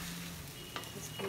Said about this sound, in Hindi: इसको अच्छे से मिला लेना है